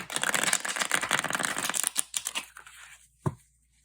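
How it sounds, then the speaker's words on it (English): Thin-cardstock tarot cards from a Jack-O'-Lantern deck riffle-shuffled up close in a dense, rapid flutter for about two seconds, then a few looser flicks, a single sharp tap and quiet. "These cards shuffle really great right out of the box."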